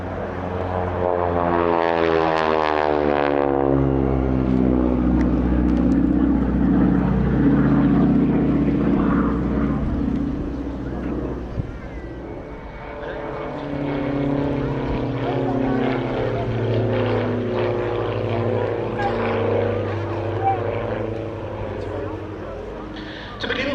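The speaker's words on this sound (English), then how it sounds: "powerful, with a 600 horsepower Pratt & Whitney Wasp radial engine" A North American Harvard/SNJ trainer aircraft with a 600 horsepower Pratt & Whitney Wasp radial engine drones loudly and steadily at an airshow, its pitch sweeping as it passes, with talk faintly beneath the engine roar.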